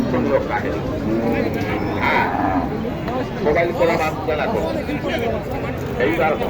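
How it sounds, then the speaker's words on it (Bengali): Cattle moo repeatedly at a crowded cattle market in Naogaon selling cows for Qurbani and meat, the calls rising over constant chatter and general crowd hubbub. "অনেক গরু আছে"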